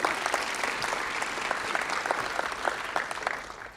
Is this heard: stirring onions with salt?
no